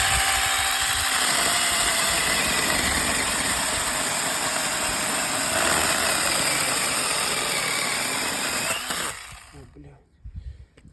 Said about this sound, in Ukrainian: Порівнюємо міні-пилочки алко проти шталя.